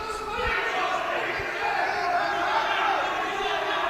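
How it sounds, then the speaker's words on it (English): Boxing crowd at the World Boxing Cup GB Open in Sheffield roars in a steady, dense wall of cheering and shouting that swells slightly, filling a large arena, with no clear talk above it. "The crowd really getting up for this one now."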